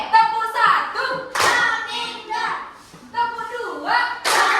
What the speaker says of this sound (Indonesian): Tepuk-tepuk ya